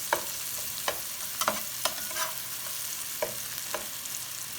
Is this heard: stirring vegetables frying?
yes